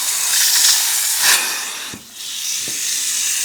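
An upholstery spray extraction tool rinses and sucks water from fabric, giving a steady close hiss and rushing suction with brief dips and small clunks.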